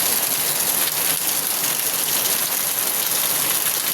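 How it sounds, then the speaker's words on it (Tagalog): Heavy rain pours in a dense, steady hiss that stays constant throughout, with no voices and a faint low hum underneath. "ang ulan perting kusuga"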